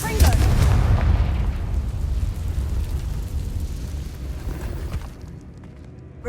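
A Confringo spell blast in Hogwarts Legacy booms loudly at the start, then rumbles and crackles as it slowly decays before fading out.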